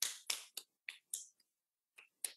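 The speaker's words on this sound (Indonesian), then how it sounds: "Saya tepuk seperti ini." Hands pat the body after oil is applied in a tapping therapy session, giving seven or eight sharp, close slaps in an uneven rhythm with short silent gaps between them.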